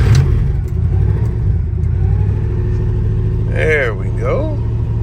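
An old station wagon's engine runs with a steady, loud, low rumble throughout, while someone speaks briefly near the end.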